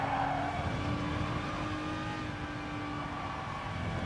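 A race car engine droning steadily in Gran Turismo Sport, a held mid-pitch whine as the throttle eases through a corner, with faint tire scrub and other cars humming nearby.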